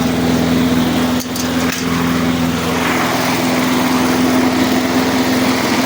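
Repaired lawn mower engine running steadily at close range, a loud continuous high-pitched buzz with a brief dip in the middle, no talk.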